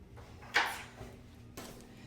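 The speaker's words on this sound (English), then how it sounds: "The door doesn't want to stay open." A bathroom door in a Las Vegas Cosmopolitan hotel suite that won't stay open gives two quiet, close thuds about a second apart in an otherwise hushed room.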